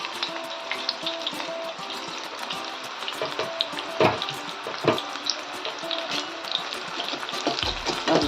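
Drumstick flower fritters (bhaji) go a few at a time into hot oil in a home kitchen, giving a steady crackling fry with sharper pops and splashes as each batch drops in.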